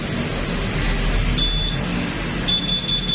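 A motorcycle's alarm gives short high electronic beeps intermittently, a single tone followed by a quicker series, over a steady low background hum.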